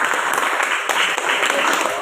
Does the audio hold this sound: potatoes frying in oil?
no